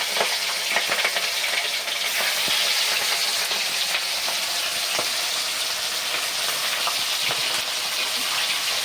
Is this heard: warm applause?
no